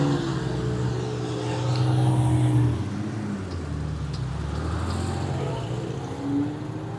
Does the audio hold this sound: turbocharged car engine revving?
yes